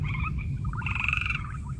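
Rabb's fringe-limbed tree frogs call in a forest setting, a run of rapid, rattling croaks and chirps that swell through the middle, close and fairly loud over a low rumbling background.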